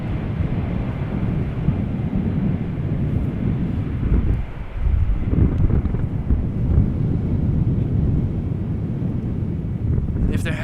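Strong wind buffets the microphone at Amsterdam Schiphol Airport, a steady low rumble that surges louder around the middle and stays dense and roaring throughout, with no other clear sound standing out.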